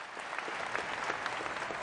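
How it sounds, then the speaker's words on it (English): A large hall crowd of about 1,500 gives applause after violinist Joshua Bell's encore at Union Station, a dense, sustained wash of clapping heard from a distance, even and unbroken throughout. "When the final note ended and the applause washed over"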